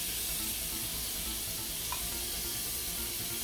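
Bacon fries in a pan for a three-meat chili, a dense and even sizzle that crackles steadily, close and unbroken with no voices.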